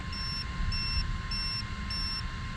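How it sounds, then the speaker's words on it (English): Four evenly spaced high electronic beeps from the electronics of an ARRMA Quake RC car, each short and clean, sounding over a steady background hum with no talking. "4 beeps."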